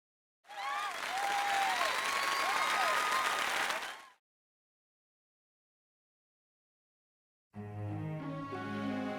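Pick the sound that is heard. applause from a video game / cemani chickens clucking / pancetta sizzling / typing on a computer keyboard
applause from a video game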